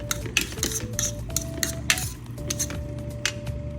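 Carolina Reaper Pancit Canton noodles being tossed and stirred with metal cutlery in a dish, giving a quick run of close clinks and scrapes over a low steady hum, with no voices.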